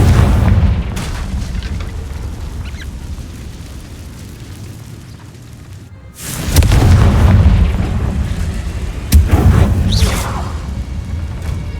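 A Confringo blasting spell in Hogwarts Legacy detonates with a heavy, low boom after a quieter stretch. It is followed soon after by another sharp burst, both loud and rumbling, with no voices.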